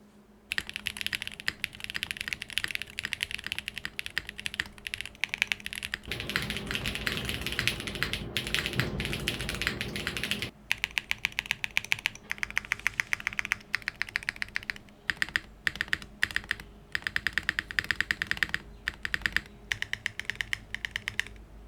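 Mechanical keyboard with a Bakelite-type case, TX Rev 3 stabilizers and GMK Boho keycaps being typed on, close and clear: rapid continuous clacking key presses with brief pauses and a denser burst of fast typing midway.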